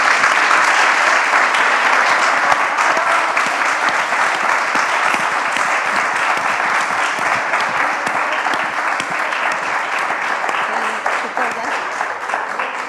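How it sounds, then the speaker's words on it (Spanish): Sustained audience applause at a women's panel discussion, a dense steady patter of many hands clapping for the full stretch, fading slightly toward the end. "Yo quiero que me den un aplauso, por favor."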